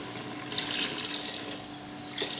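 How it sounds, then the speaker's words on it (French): Water poured from a tap into peanut sauce for mafé, a continuous hissing splash running steadily for a couple of seconds, close and moderately loud with no talk. "J'ajoute un peu d'eau."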